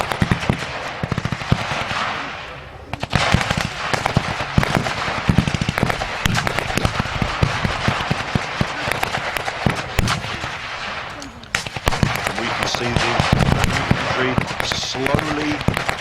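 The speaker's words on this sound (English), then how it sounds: "Now the rockets go off." Rapid, loud volleys of rocket and gunfire-like bangs crackle almost nonstop at a WWII battle reenactment, a dense barrage of blasts with a brief lull before resuming, with a voice audible beneath.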